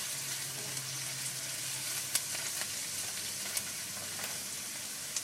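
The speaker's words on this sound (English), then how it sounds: "Onions smell so good when they're cooking." Onions softening in a pan for homemade enchilada sauce, an even, steady sizzle with a few small crackling pops, close and fairly quiet, no voices.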